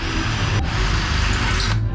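A power drill bores a row of holes through a panga boat's hull during a refit, its steady grinding whine running close and loud without pause.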